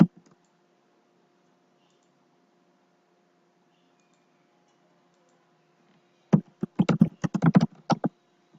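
A burst of keyboard typing, rapid irregular clicks and taps lasting about two seconds near the end after a long quiet stretch, fairly close and alone with no voices.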